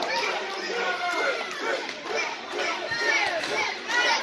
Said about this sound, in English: The crowd here at the JC Fairgrounds absolutely showing their support for Tripp.